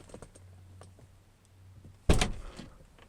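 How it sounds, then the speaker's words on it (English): A car door opens on a vehicle that won't start, a sharp loud clunk and rattle after a stretch of faint clicks and a low hum. "If I open the door"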